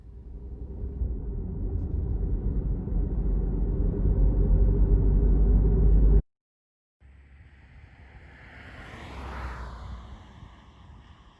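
Car driving along the highway into Selma, Alabama: steady low road rumble and wind noise fill the first six seconds, cut briefly to silence, then return softer with a rising and falling passing swell.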